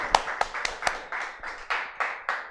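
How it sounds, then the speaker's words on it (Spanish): Claps from a small studio audience on a talk show, a sparse handful of separate hand claps at an uneven pace, fairly close and moderately loud, with no talking. "Un aplauso para Erika, por favor."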